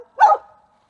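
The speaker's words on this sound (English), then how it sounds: "That bark right there is a playful bark." A single short, bright dog bark, close and loud, a playful yap from a farm dog with a brief tail fading out afterward; no talking.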